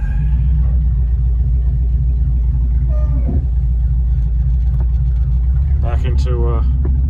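A Mercedes 300SEL 6.3 with its transmission freshly engaged rolls under its own power, a steady loud low engine rumble running throughout, with voices talking over it.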